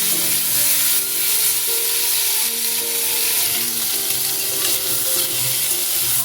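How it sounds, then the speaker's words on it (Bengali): Boiled papaya pieces frying in hot oil, left over from frying potatoes for a papaya curry with prawns, give a steady, close sizzle with light stirring that runs the whole time without any talking. "ওই তেলেই সিদ্ধ করা পেঁপেগুলো দিয়ে দিচ্ছি।"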